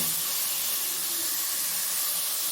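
Marinated cauliflower fries in a pan with an even, dense hiss that holds steady at one loudness throughout, with no talking.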